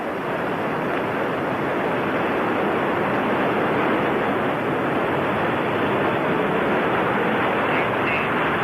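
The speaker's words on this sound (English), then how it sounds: "Liftoff of Delta 178 and the GOES-G satellite." A Delta 178 rocket carrying the GOES-G satellite lifts off with a steady, dense engine roar that fills the whole stretch at constant loudness, broad and rushing like surf, with no voices.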